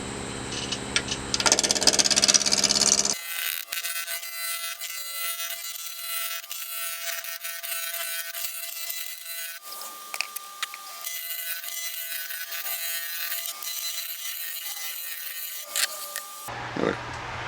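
Wood lathe spinning a wooden urn at 1000 RPM, a steady mechanical hum with a faint whine and intermittent scraping bursts as the tool meets the wood, close and continuous without talk.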